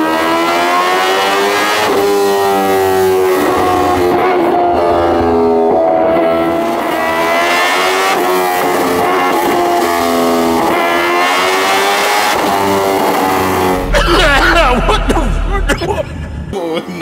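A Kawasaki H2R motorcycle revs hard on a dyno, its engine note rising and falling through long sweeps, then breaking into a rough, loud burst near the end, with voices underneath.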